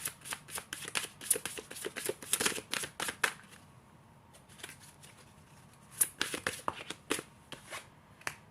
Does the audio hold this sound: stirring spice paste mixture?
no